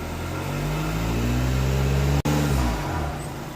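A 2015 VW Passat TDI diesel engine fitted with a Rawtek cold air intake revs steadily and loudly close by, holding a strong, droning pitch that cuts off abruptly for an instant before resuming and easing slightly.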